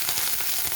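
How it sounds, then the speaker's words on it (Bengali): Grated ginger frying in hot oil in a pan, a dense, steady sizzle heard up close with no voice over it. "গ্রেট করে রাখা আদাটা হালকা ভাজা ভেজে নেব"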